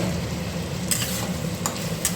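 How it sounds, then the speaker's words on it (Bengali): Potatoes being sautéed with spices in a pan, a steady close frying sizzle with a few sharp scrapes and clinks of a spoon stirring against the metal. "আলুটা দিয়ে একটু কষিয়ে নেবো।"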